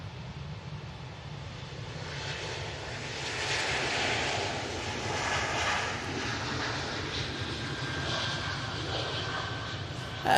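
An airliner operated by Baltic for Swiss departs runway 23 left at Manchester Airport, its engines a steady broad roar that swells slightly mid-way, distant and unbroken with no voices.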